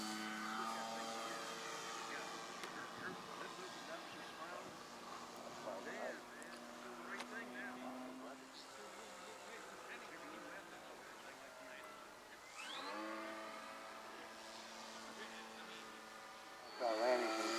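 A Precision Aerobatics Katana 52 RC model plane engine drones steadily in flight, its pitch rising and falling as it maneuvers, heard at a moderate distance throughout with a voice talking over it.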